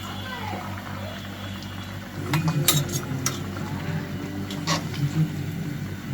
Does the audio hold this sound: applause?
no